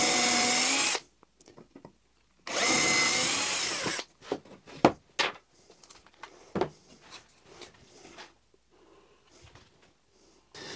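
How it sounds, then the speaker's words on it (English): A power drill bores pilot holes through counterbores and drives screws into plywood shelf dividers, two long loud whirring bursts followed by a series of shorter, sharper drill and screwing sounds with quieter handling between them. "drilling a pilot hole directly through the counterbore, adding in some glue and screwing everything together"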